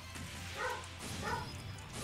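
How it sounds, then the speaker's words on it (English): Dogs bark a few times, faint and distant, as quiet yips behind low background noise during a livestream. "And I do apologize if you hear the dogs in the background."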